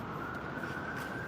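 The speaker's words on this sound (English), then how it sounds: "You may hear the sirens in the background because we are in the city" Emergency vehicle sirens wail faintly and steadily in the distance on a busy Toronto city street, under a constant low wash of urban traffic noise.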